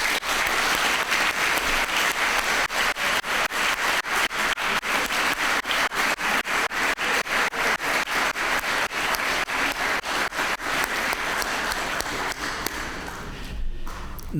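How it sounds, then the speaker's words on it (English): Sustained applause from a graduation ceremony audience at a school's Year 13 farewell, dense steady clapping filling the room for about thirteen seconds before thinning out at the end. "please give yourselves and all of those people we've just thanked a big round of applause"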